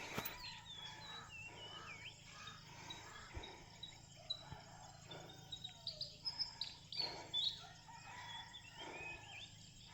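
Harsh crow calls ring out repeatedly outdoors, some distant and some nearer, with several louder caws clustering toward the end over steady background noise.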